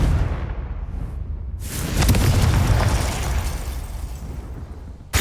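A Confringo spell blasts off in Hogwarts Legacy, a loud booming burst that erupts partway through and rolls on as a sustained roar, with a sharp crack at the very end.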